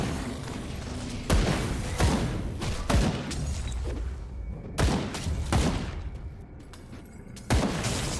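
Grenade and stun jack blasts go off repeatedly in the action game Grim Dawn. Sharp, loud booms land at irregular intervals about a second apart over a continuous rumbling background of combat.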